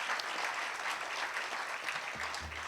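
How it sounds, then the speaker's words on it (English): An audience at a Harvest for Hunger recognition ceremony breaks into a round of hand clapping, a dense, even wash of applause heard from some distance and fairly faint. "That deserves a hand clap."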